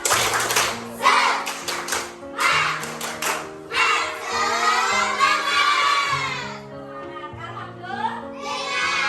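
Schoolchildren in a classroom do a rhythmic spirit clap, patterned claps punctuated by chanted group voices and a melodic backing, loud and close, with children's voices throughout.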